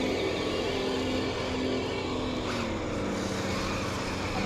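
A Jeep with a 4.7 engine drives a wooded trail, giving off a steady, droning engine rumble with a slight rise in revs partway through and no talking.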